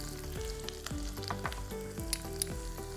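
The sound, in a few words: ajwain seeds added to hot oil sizzling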